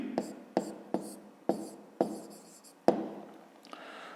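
Pen writing on paper in a math exercise: about seven short, crisp scratching strokes in an uneven rhythm, close up, with a faint brushing sound at the end.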